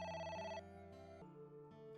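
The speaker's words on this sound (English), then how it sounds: "It's the phone." A telephone in the video game AI: The Somnium Files gives a short electronic ring, a bright tonal chime shifting pitch in a quick repeating pattern, clear and alone over faint background.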